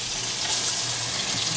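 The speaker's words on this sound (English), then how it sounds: "You have to wash them off right away?" A tap runs steadily into a sink while hands are washed, a loud, continuous close splash and gush of water with no talk over it.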